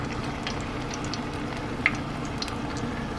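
Vegan fish batter over celery root fries steadily in hot oil, giving a continuous soft sizzle with small crackling pops and one brief louder spit.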